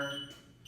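A workout timer gives a short electronic beep, then a brief pause and the start of another tone, clear and close with no talk.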